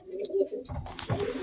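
Racing pigeons coo inside a loft, a few soft, low throaty coos repeating close by, followed by rustling and shuffling movement.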